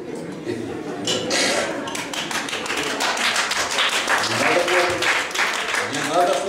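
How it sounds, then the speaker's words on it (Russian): An audience at a live comedy performance claps in uneven, scattered bursts that swell and fade, with someone talking over the claps. "Не надо хлопать."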